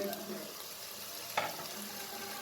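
Masala powder frying for biranji rice gives a steady low hiss, with one short scrape of stirring near the middle and no talk.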